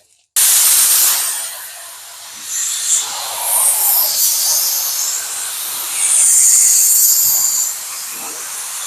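A spray gun laying down an even coat of paint, a loud sustained airy hiss that starts abruptly and swells and eases as the passes continue, with no talk over it.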